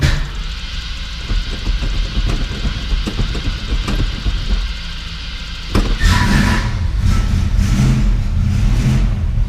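A 1965 Ford Mustang engine churns through a rough cranking start, then catches and runs with loud, close revving bursts and a steady rumble.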